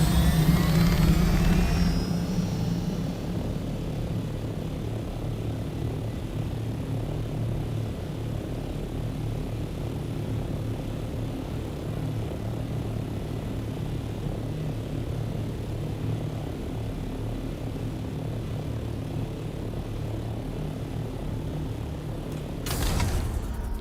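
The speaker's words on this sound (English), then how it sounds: "Because I want to put the chopper down." An ornithopter in the Dune Awakening video game flies with a steady, droning engine and rotor hum that holds at a constant level throughout, with a brief louder burst near the end.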